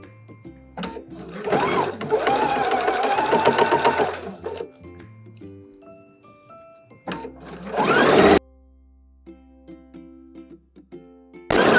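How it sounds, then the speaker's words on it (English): A sewing machine stitches a zipper in several bursts of rapid mechanical stitching, pausing between runs, with a brief low hum and clicks in the gaps. "so that way I can sew the left side of the zipper"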